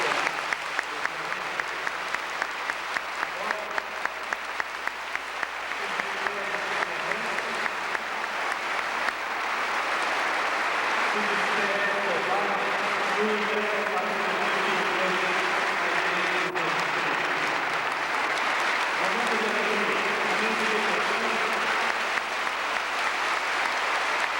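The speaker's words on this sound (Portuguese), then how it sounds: "Nós aclamamos com uma salva de palmas" A congregation applauds at length during a 1995 priestly ordination in a Brazilian church, the clapping rhythmic and evenly paced at first, then merging into a continuous roar in a reverberant space, with a voice speaking underneath.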